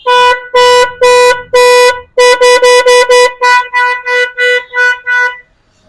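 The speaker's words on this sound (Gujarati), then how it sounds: "આમાં કસ્ટમરે હોર્ન ફિટ કરાવેલું છે એ બી બહુ મસ્ત છે હોર્ન જો અવાજ સાંભળો તમે" A loud, close scooter horn honks repeatedly: several long blasts, then a quicker series of short beeps, ending in silence.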